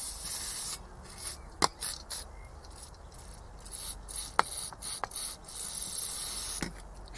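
Cleaner is applied to the tip of a Delphi diesel common-rail injector while it stays mounted, making a quiet, steady hiss. A few sharp ticks and light handling knocks come through, with no talking.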